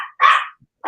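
A dog barking close and loud, two sharp barks with a third starting at the end, quick and clipped with brief silent gaps between them.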